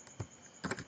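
Several quick keystrokes sound on a computer keyboard as text is typed into school report card software: a single tap, then a short cluster of close, crisp clicks.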